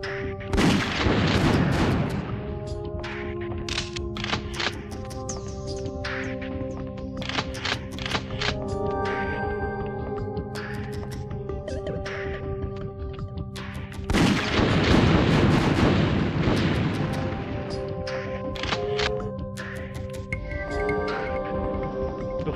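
Rifle fire against aliens in the PS1 game Alien Trilogy: repeated sharp gunshots with booming blasts and echoing tails, set over a constant droning game soundtrack with tonal hums, heavier bursts near the start and middle.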